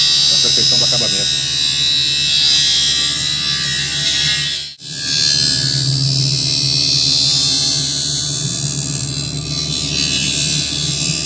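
A computerized lens edging machine at an optical shop cuts an eyeglass lens, giving a steady, loud high-pitched buzzing whine with a brief dip midway, continuing alone without speech.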